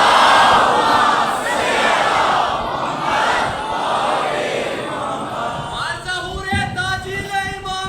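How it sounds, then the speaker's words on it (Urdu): A large congregation at a mourning gathering in a Karachi imambargah recites salawat together, a loud sustained chorus of many voices that swells and fades before a single voice carries on afterward. "اس سے بلند صلوات پڑھ لیجیے۔"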